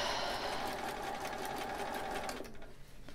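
A sewing machine stitching fabric for a monk robe, a loud, close, rapid continuous whirring that runs for over two seconds and then slows and fades.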